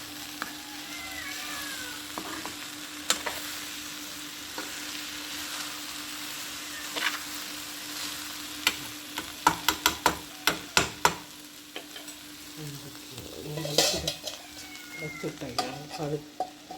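Okra fries in a pan on the stove with a steady hissing sizzle, while a spatula stirs it in bursts of rapid clicking, scraping knocks, loudest midway, and no talking.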